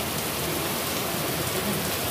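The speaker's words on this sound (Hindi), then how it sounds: "देखो हमारे यहाँ कितनी तेज बारिश हो रही है" Heavy rain pours down in a dense, continuous hiss, steady and enveloping with no other sounds standing out.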